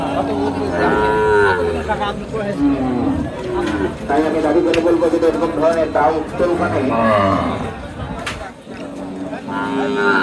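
Cows with calves at the Sonaichandi cattle market in Chapainawabganj moo loudly and repeatedly, long droning calls rising over steady crowd chatter and bargaining voices.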